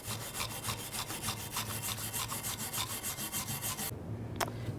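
A wire brush scrubs rust off a rear brake caliper bracket on a 1999–2007 Chevy Silverado 2500, with fast, rhythmic scratchy strokes close by that stop shortly before the end, followed by one brief clink.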